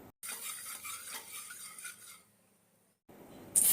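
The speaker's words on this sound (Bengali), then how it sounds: "হলুদটা হালকা ভেজে নিচ্ছি" Turmeric fries lightly in oil in a pan, a soft hiss with gentle stirring scrapes for about two seconds before falling quiet, then a brief clatter at the end.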